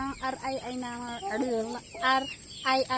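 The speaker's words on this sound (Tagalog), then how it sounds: "Ito yung mga manok na nabili namin" Rhode Island Red chickens in a backyard flock cluck close by in a run of quick, repeated calls, several birds overlapping with short pauses between bursts.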